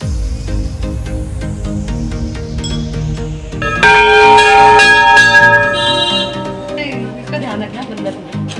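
Temple bells ring at a Hindu shrine during a puja for a newly bought car, bright sustained metallic tones swelling loudly midway over a busy background with people talking nearby.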